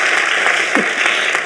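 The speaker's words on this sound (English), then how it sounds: "I hope you can hear this applause and feel it." An audience applauds the Nigerian team at the 2023 Action With Africa Challenge final, producing a dense, steady wash of clapping from a crowd that continues without a break.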